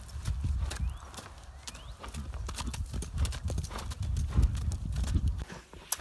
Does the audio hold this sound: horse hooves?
yes